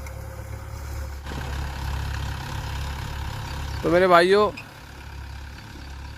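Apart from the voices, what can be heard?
Mahindra 475 DI tractor engine running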